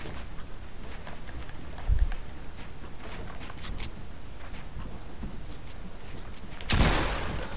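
Gunfire in a video game: a short blast near the two-second mark and a louder burst around six and a half seconds, both over steady game noise with faint clicks.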